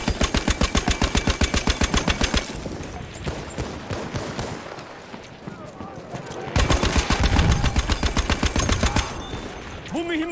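Rapid machine-gun fire from an armored train in a video game, steady fast bursts of close, loud shots, pausing mid-way under a noisy rumble and low talk before a second heavy burst resumes.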